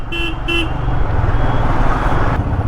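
Two short car horn honks sound up front in a traffic jam near a bridge at Pinjore, followed by a steady rumble of idling and creeping vehicles.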